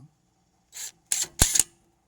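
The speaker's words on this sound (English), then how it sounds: "I'm gonna try to use my impact wrench and a 22 wrench" An impact wrench loosens the rear strut nut on a 2015 Toyota Camry in short close bursts: one brief whirr, then two sharper rattling hammer bursts after a pause, with no talking.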